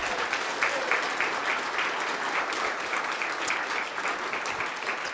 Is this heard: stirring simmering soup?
no